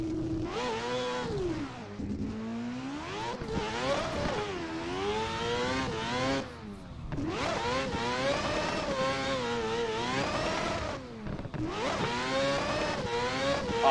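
A 4-rotor Toyota A90 Supra in a driving video game screams through repeated high revs and gear changes, its loud buzzing rotary wail rising and falling continuously with brief dips between shifts, along with occasional tire squeal.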